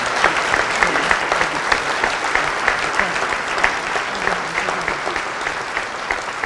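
Audience applause at a retirement party, dense, even clapping from a sizeable crowd, loud and sustained throughout with no break.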